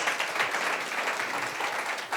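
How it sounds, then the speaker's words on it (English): Sustained applause and clapping from an audience at a community women's leadership event, a dense, steady wash of many hands throughout with no voices over it. "So let's give another round of applause."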